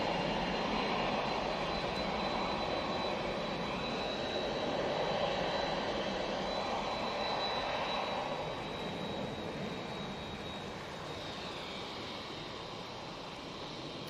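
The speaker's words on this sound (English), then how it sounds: "Absolutely tearing it up there, the Virgin Atlantic." A Virgin Atlantic Airbus A330 jet takes off from Manchester Airport bound for Las Vegas, its steady distant roar and rumble holding for a long stretch and then slowly fading.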